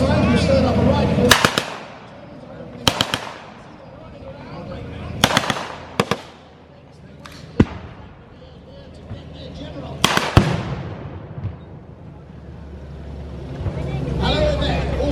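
Blank rifle and small-arms gunfire at a Wartime Britain battle reenactment display outdoors, with several sharp loud reports in separate bursts over a steady background murmur and occasional voices.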